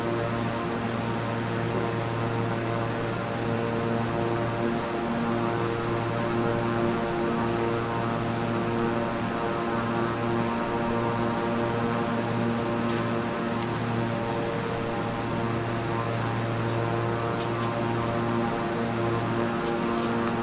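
A propeller airplane engine in a flight simulator video game drones steadily and evenly with no breaks, a continuous loud hum with no voices.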